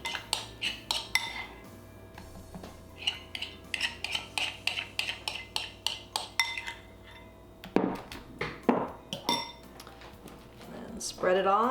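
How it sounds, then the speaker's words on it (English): A utensil spreads garlic mixture onto slices of plant-based gluten-free sourdough bread, making a rapid run of close scraping taps and light clinks against the dish, with a faint voice in the background. "So I'm just going to put half the mixture on each piece of bread."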